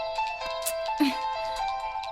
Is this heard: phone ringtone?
yes